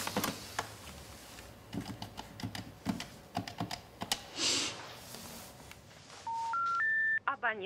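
A landline telephone being dialed: a few soft clicks and speech-like noise, then a rising sequence of four clear dial tones stepping up in pitch near the end, close and fairly quiet.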